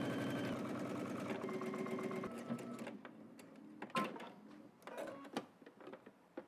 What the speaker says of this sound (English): head to the machine and we're just gonna stitch this down all the way across